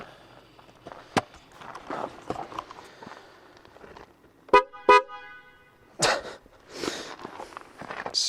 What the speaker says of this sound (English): basically like having a car horn on your bike